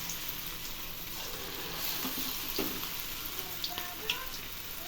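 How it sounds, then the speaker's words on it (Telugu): Vegetable Manchuria balls fry in hot oil in a home kitchen pan, giving a steady, close sizzle with a few sharper pops and spatters. No one talks. "ఇలా వేసుకొని బాగా వేగాక తీసుకోవటం."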